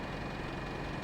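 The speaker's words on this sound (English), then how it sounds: "that engine does seem kind of on the loud side" A vehicle engine in Farming Simulator 22 drones steadily and fairly loud, a continuous rough idle-like rumble with no pauses and no talking.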